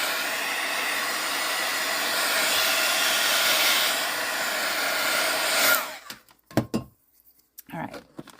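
A hair dryer blows a steady, loud whoosh of air over wet paper for about six seconds, then cuts off, followed by a few faint handling clicks and bumps.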